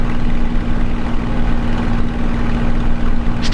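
Supermarine Spitfire Mk IX engine in a flight simulator, a steady low droning hum heard from the cockpit, continuous and even throughout with a faint brief click at the very end.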